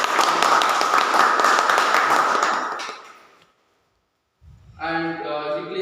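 Members at a Nagarabhavi Toastmasters club meeting give a loud round of applause, many hands clapping steadily for about three seconds before fading to silence, after which a voice begins speaking.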